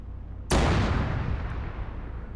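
A tank blows up in Arma 3 in a single sudden loud blast that drops to a long, rumbling decay with debris crackle, and no voices are heard over it.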